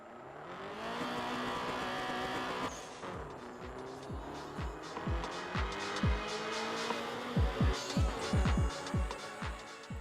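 In the video game Night Runners, a racing car engine revs and drones over swelling electronic music, and it is followed by a rapid series of sharp downward-swooping engine and gear sounds, up close and loud.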